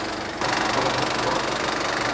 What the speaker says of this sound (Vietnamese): máy móc nó nổ êm ru nhá